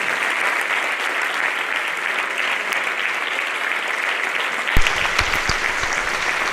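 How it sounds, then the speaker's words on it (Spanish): Sustained applause from a gala audience at a mountaineering awards ceremony honoring Carlos Ares Vázquez, steady dense clapping filling the hall, with a few sharper louder claps near the end. "Aí está, forte ese aplauso para Carlos Ares Vázquez"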